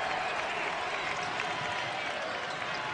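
Basketball arena crowd in a college game between Iona and Saint Louis cheers and applauds in a dense, steady roar that holds loud and unbroken throughout.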